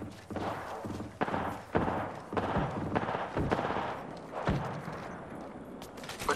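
Gunfire from the video game DMZ, a run of loud shots and thuds in bursts, some sharp single cracks over sustained rumbling combat noise, with no talking.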